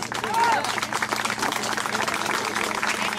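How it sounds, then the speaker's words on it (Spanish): Crowd applause at an outdoor festival of costillar and torta asada in Cura Brochero, a dense burst of clapping mixed with crowd noise and a brief whistle. "Fuerte el aplauso para eso,"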